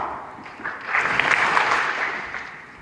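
Applause from a conference audience of chartered accountants, a sustained wash of hand claps swelling in the middle and trailing off, fairly loud with no distinct single clap.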